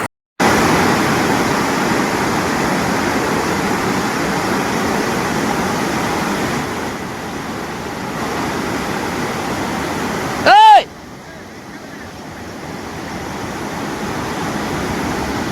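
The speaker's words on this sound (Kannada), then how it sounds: "ಇಂಡಿಯಿಂದ ಬರುವ ಬೇನೂರು ಹಳ್ಳ ನೀರಿನಿಂದ ಬ್ರಿಡ್ಜ್ ಎಲ್ಲ ತುಂಬಿ ನೀರು ಹೋಗ್ತಾ ಇದೆ" Floodwater from the swollen Hirebevanur stream rushes over a bridge in a loud, steady roar that stays dense and unbroken throughout, with a brief sharp tonal sound cutting through near the end.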